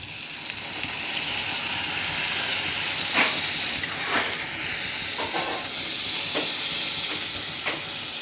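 Water poured into a hot pan of prawn curry hisses steadily, with a few sharp sizzling bursts over a constant steamy background.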